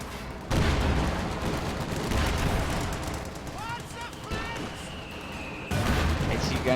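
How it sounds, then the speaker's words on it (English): A Sherman tank fires its guns in a war strategy game. Dense, repeated bursts of gunfire and booming shots go on throughout, with a commentator talking over much of it. "Sherman gunning everything down on the retreat"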